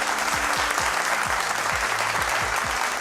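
An audience claps in a steady, dense burst of applause that fills the whole moment at close range, with faint thumping beats underneath and no talking.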